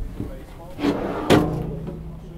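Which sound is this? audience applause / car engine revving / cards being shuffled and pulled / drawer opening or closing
drawer opening or closing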